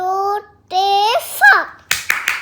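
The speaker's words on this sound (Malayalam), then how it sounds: "എന്തിനാ ക്ലാപ്പ് ചെയ്യുന്നേ" After a child's and an adult's voices, a short burst of hand clapping follows: four or five sharp, close claps in an uneven rhythm.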